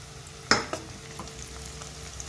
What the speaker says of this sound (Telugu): ఆనియన్స్ పచ్చిమిర్చి కరివేపాకు, ఇవి మూడు వేసిండు.